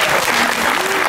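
Audience applause during a live psychic reading show, a dense, steady clapping from a crowd throughout, with a voice faintly over it.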